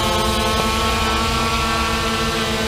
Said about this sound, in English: I think you can do a manual by both sticks in and just give it throttle